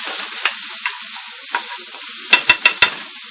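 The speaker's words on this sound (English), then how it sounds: "And we're going to go ahead and stir that." Food being stirred in a sizzling pan for chicken empanadas: a steady fry hiss with several utensil scrapes, then a quick run of sharper clacks near the end, close and clear with no talking.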